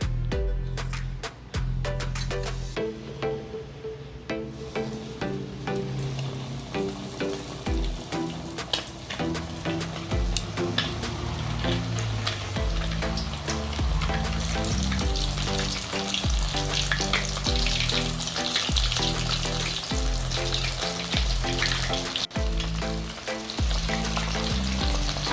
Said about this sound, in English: we're gonna start frying the wings now